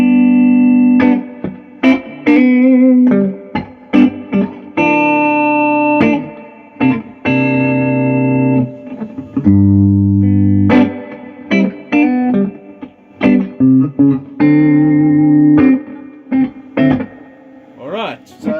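Electric guitar played through a Fender Super Sonic 22 amp at full gain with reverb set to 5, loud distorted chords and single notes ringing out with a lush wash of reverb between phrases.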